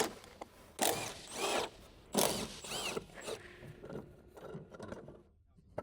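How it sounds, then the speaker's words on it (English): Power tool removing strut mount nuts on a BMW E46 325ci, heard as several short whirring, ratcheting bursts of varying length, close by, fading toward quiet at the end. "Using the same tool, continue removing the strut mount nuts."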